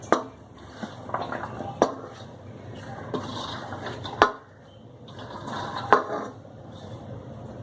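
Chopped colocasia (taro) greens tumble into a metal pressure cooker with rustling, clattering handling sounds, a few sharp clinks of metal against metal standing out.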